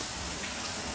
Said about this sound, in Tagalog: Lakas ng ulan mga boss dito.